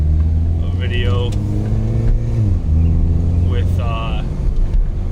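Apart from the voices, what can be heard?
2010 Mini Cooper S R56 with Invidia Q300 exhaust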